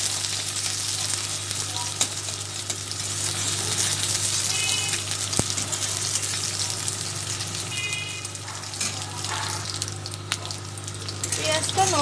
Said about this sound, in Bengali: পেঁয়াজটাকে জাস্ট একটু কালার চেঞ্জ হওয়া অবধি ভাজতে হবে।